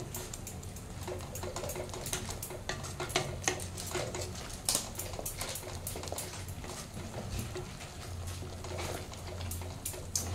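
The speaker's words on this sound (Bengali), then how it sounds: "এবার মশলাগুলো ভালো করে মিশিয়ে নেব।" Spices and red chilli powder are stirred in a pan for crab curry, with a spoon scraping and clinking against the metal in quick, repeated strokes over a low sizzle, close and steady.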